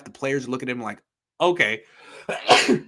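Someone sneezes once, a sharp, loud burst that comes right after people talking during a football podcast discussion.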